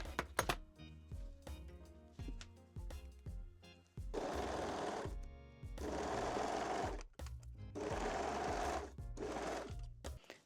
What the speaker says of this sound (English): pin and sew the crotch seam